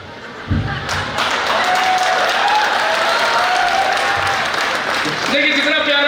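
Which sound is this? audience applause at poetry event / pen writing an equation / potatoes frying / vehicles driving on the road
audience applause at poetry event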